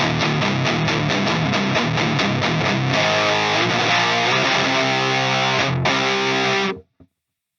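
Heavily distorted electric guitar through a Behringer HM300 distortion pedal with the gain turned up, recorded direct, playing chugging chords and then sustained notes that cut off abruptly near the end.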